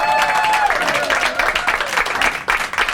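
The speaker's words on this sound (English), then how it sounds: "Will you give a massive round of applause for tonight's fantastic musicians?" An audience at a live music set applauds the musicians, a dense wash of clapping with a few cheers, loud and continuous, thinning slightly toward the end.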